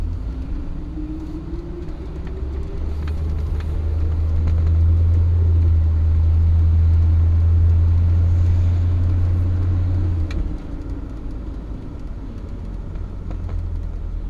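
A 1966 Ford Galaxie 500 convertible with no front end drives on a cold road, its engine a loud, steady low rumble that swells in the middle and eases off near the end, alone without talk.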